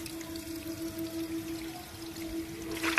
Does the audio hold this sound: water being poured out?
yes